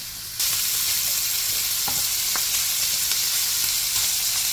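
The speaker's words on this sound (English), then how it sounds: "So I'm going to go in with my sausage now." Sausage hits a hot pan for Southern fried cabbage with shrimp, breaking into a loud, steady sizzle that fills the moment, with a couple of faint utensil taps beneath.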